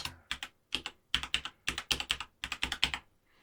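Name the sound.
typing a phone number on a computer keyboard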